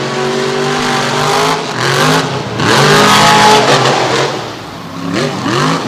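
Monster stomper truck from Portland, Indiana roaring loudly through a bus jump at an outlaw event in Canfield, Ohio, engine surging and revving in repeated waves, close and dominant with no talk.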